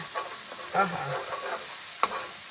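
Eggs being scrambled in a very hot pan for fried rice, a steady high sizzle with a few spatula scrapes and knocks against the pan, close and moderately loud.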